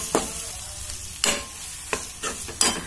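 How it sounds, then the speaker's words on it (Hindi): Fried okra is stirred into a sizzling masala in the pan, with a steady background fry broken by four distinct scraping spoon strokes, close and fairly loud. "इसके अंदर हम ये भिंडी ऐड कर लेंगे जो हमने फ्राई की थी।"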